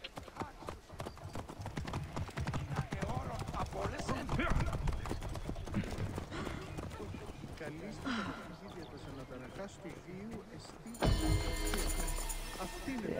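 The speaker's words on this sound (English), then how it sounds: "That was a nice horse." Horse hooves clip-clop in the Assassin's Creed Origins video game, a steady rhythmic beat with occasional whinnies, mixed under game sounds and someone talking throughout, with a louder burst near the end.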